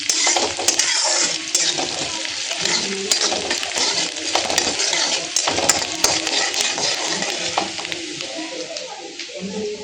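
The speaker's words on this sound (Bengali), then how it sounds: "আর এই যে অল্প অল্প আমি লবণ দিয়ে দিচ্ছি একটু পেঁয়াজে, সে পেঁয়াজটা ভালো মতন ভাজা হয়ে যায়।" Sliced onions sprinkled with salt frying in a pan for a Bengali lunch, with steady sizzling under repeated scraping and clinking of a spatula stirring against the metal.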